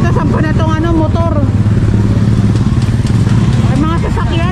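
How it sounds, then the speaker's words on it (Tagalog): Motorcycle engine running steadily during a street clearing operation, a continuous low drone heard close by, with a person talking over it the whole time. "Ito, sampa na itong motor."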